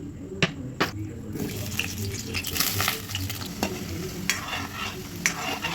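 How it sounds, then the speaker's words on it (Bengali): Potatoes fry in hot oil in a wok, giving a soft sizzle broken by sharp scraping and clinking stirs throughout. "কড়াই গরম হয়ে গেছে তেল দিয়ে দেবো আলুগুলো ভেজে নেব"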